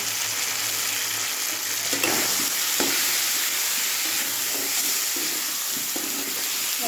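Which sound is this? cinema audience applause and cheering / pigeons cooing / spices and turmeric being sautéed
spices and turmeric being sautéed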